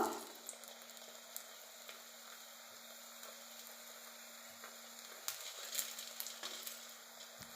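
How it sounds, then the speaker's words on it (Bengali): Bengali pitha rice cakes frying in oil in a pan, a quiet steady sizzle with faint crackles that grow a little busier toward the end, no voices. "এমনভাবে সবগুলো আমি ভেজে নেব"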